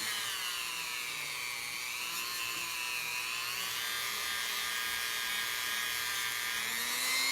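A polishing machine works a silver bezel set around a cabochon stone, giving a continuous high whine with a smooth, unbroken grinding hiss and slight pitch wavering as pressure shifts, loud and close, with no talk.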